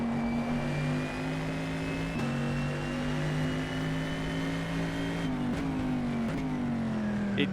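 A racing prototype engine in rFactor 2 drones at high revs, a steady harsh whine with a couple of brief dips as gears shift.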